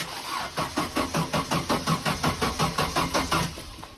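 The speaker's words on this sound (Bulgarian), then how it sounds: "Ајде да видиме калибра после 12 години дали ќе запали." An Opel Calibra that has sat unused for 12 years, with a suspected dead fuel pump, cranks over with a loud, steady rhythmic chugging of about four to five beats per second, close by and without any talk.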